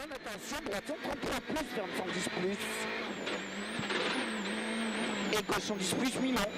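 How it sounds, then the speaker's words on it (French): A rally car on studded tyres races through a Monte-Carlo Rally stage, its engine loud and high-revving with continuous tyre noise, while a commentator talks over it throughout. "Sextuple vainqueur ici sur le rallye de Monte-Carlo, Sébastien Loeb"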